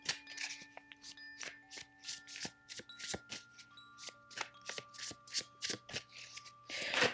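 A deck of oracle cards is shuffled close by in quick repeated riffles and snaps, a rapid, uneven patter of crisp card slaps with faint background tones underneath.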